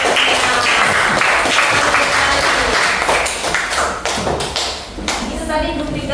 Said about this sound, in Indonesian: kasih tepuk tangan dulu buat